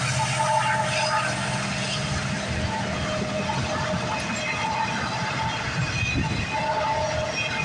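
A CN freight train led by locomotive 5714 with 8856 trailing rolls past steadily at Scotch Block, Mile Post 30, on a rainy day, its continuous rumble and wheel noise holding at an even level throughout.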